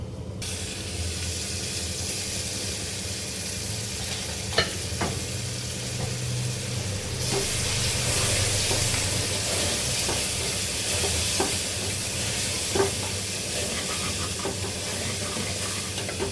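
Tomatoes fry in a pan for vegetable biryani, a steady close hiss and sizzle with scattered scrapes and taps of stirring, a few sharper knocks standing out, and no talking.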